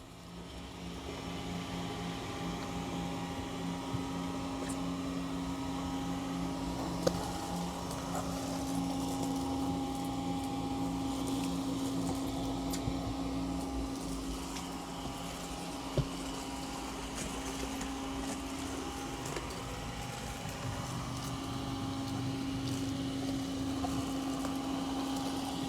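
A Dreame L60 Pro Ultra robot vacuum runs through a vacuum-and-mop pass in a messy room, giving off a steady motor whir and pump-like hum with a few faint clicks, continuous for the whole stretch.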